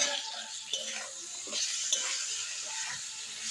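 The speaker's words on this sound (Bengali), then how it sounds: "এটাকে ভালো করে একটু ফ্রাই করে নেব" Tomatoes frying in a pan with onion and dried chili for a chicken dish, a soft steady sizzle with light stirring scrapes throughout, close and fairly quiet.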